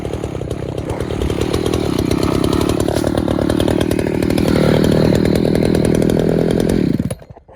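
A chainsaw runs loud and close during tree felling on a hillside in Glade Valley, North Carolina. Its steady buzzing rises in pitch and then stops abruptly near the end.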